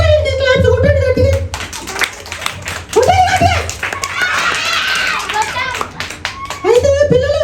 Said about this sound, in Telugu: ఇంటి క్లాప్స్ కొట్టండి గట్టిగా